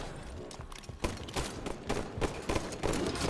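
Gunfire and rocket launcher blasts ring out in a Halo 5 capture-the-flag match on the Coliseum map, with sharp repeated shots and heavier bursts in a dense, loud stretch of game combat.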